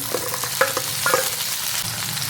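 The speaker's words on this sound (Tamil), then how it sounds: "ஒரு 2 நிமிஷம் இந்த எண்ணெயில் இந்த தக்காளியை நல்லா வதக்கி விடலாம்." Roughly chopped tomatoes with garlic sauté in hot oil in a pan for a chutney, giving a steady loud sizzle with a few light scraping stirs of a spoon.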